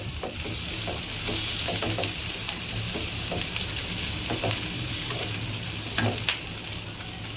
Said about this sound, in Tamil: நம்ம பூண்டு போட்டுக்கிட்டாச்சு இப்போ நல்லா வதக்கிக்குவோம்